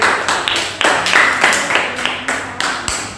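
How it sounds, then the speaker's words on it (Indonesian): Classroom students clap in a lesson, a fairly loud burst of rhythmic, slightly uneven claps repeating every fraction of a second, mostly alone with little talk. "tepuk tangan kalian semua ya"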